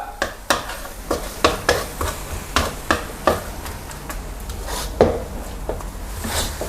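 Beaten egg stirred and fried in a pan with Thai noodles, bean sprouts and chives, giving a steady close sizzle broken by repeated sharp scrapes and taps of a utensil against the pan.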